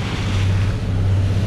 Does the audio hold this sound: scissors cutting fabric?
no